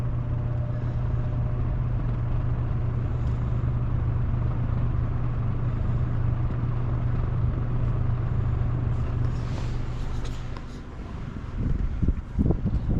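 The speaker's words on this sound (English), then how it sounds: "so I think that it's probably just the natural speed of the motor. That's just starting it on low." An old box fan motor runs on low speed with a steady low hum and a faint rhythmic chop of the blade through the air, close and continuous, ending with a few handling knocks.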